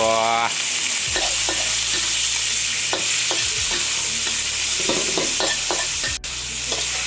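A dish is stir-fried with black pepper in a Thai restaurant kitchen, a loud, continuous sizzle broken by repeated metallic scrapes and clanks of a spatula against the wok at an irregular rhythm.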